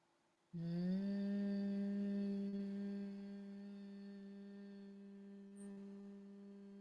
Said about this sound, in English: and exhale with a hum.